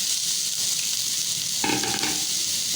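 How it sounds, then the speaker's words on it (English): Cabbage being stirred and fried in a pan with a steady loud sizzle throughout, joined midway by a brief clatter of utensil scraping against the pan. "I'm gonna add here cabbage."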